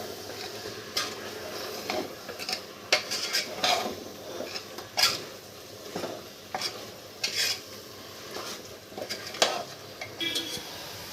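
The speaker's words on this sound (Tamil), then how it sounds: "இப்போ இதை நல்லா மிக்ஸ் பண்ணிடலாம்." Chicken is stirred with garam masala and turmeric in a pot for a chicken kulambu curry. A spoon scrapes and clanks against the metal in irregular strokes, close and clear, over a soft sizzle.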